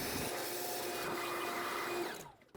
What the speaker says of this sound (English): So I'm going to use a vacuum and clean it all up.